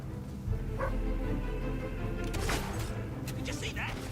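Dogs barking in the Fable 3 video game, a few short barks mid-distance over steady game music and ambience.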